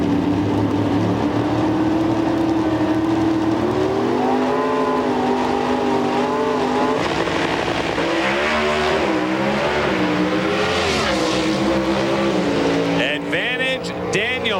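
Chevy S10 pro stock race trucks roar down a drag strip at the 1998 NHRA Revell Nationals in Dallas, a loud sustained engine drone with shifting pitch, layered under an excited announcer's commentary.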